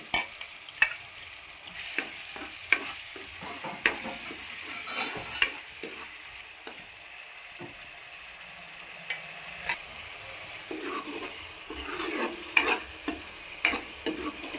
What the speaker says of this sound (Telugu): ఆయిల్ వీటెక్కింది ఇప్పుడు ఈ ఉల్లిపాయ ముద్ద వేసేసుకుందాము